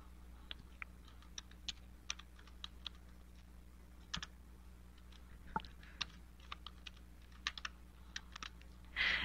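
Computer keyboard typing while filling in online account registration fields, a steady run of light, quiet key clicks spread across the whole stretch with a short louder burst at the end.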